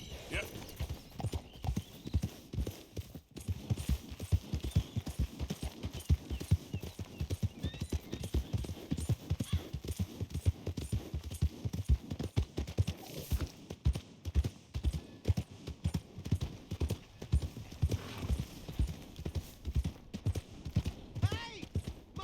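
Steady clip-clop of horse hooves trotting in the video game Red Dead Redemption 2, rhythmic and close, with occasional voices and a brief whinny mixed in.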